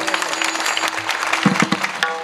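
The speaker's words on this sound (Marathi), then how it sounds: "जोरदार टाळ्या वाजवा।" An audience at a Marathi kirtan breaks into loud, dense clapping that carries on steadily for a couple of seconds with no voices over it.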